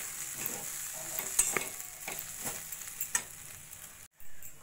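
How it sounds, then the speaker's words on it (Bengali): Oats frying in a pan with peas and tomato, stirred by a spoon that scrapes and taps several times over a steady soft sizzle, close and moderately quiet, ending in a brief pause. "ওটস দিয়েও কিছুক্ষণ ভাজা ভাজা করে নেব।"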